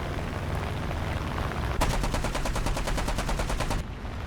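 Rapid machine-gun fire from a BTD-1 plane in War Thunder, a steady burst of about two seconds of evenly spaced shots, loud and close, over a constant engine drone.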